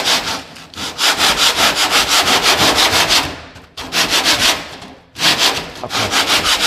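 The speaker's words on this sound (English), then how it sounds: "And let's sand this bit down a little." A Mustang car fender is sanded by hand in close, loud, rhythmic back-and-forth strokes, in three runs separated by brief pauses.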